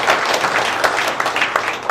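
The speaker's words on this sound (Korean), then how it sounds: "박수 해주세요." A church audience at a national fellowship gathering claps for Pastor Lee Woong-sang, a dense, continuous wash of many hands close by, filling the whole moment without a pause.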